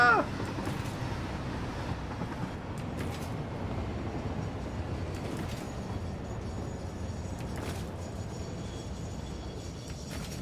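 Train rolling along in the factory-building video game Satisfactory, a steady broadband rumble and rattle holding throughout, fairly loud and continuous with a few faint clanks.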